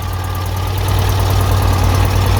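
An engine idles with a steady, loud low hum and rhythmic pulsing throb, running continuously without any speech.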